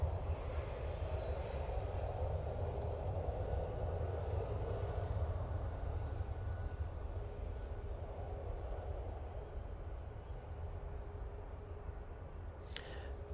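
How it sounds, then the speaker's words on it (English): An Air France Airbus A220 touching down at Manchester Airport produces a continuous low, distant jet roar that holds steady throughout, with no voices. "Let's get this Air France touching down first. It's the A220, coming from Paris Charles de Gaulle Airport."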